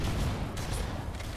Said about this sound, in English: this guy had a shotgun